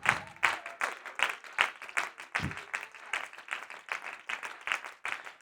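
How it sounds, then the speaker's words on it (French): A church congregation claps for the Lord during a prayer service, with fast rhythmic clapping and some cheering that swells and dips throughout. "On acclame puissamment le Seigneur"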